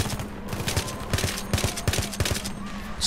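Full-auto gunfire in the video game Battlefield 3, rapid bursts of sharp shots crackling in quick uneven volleys over a background of battle noise, moderately loud and with no talk.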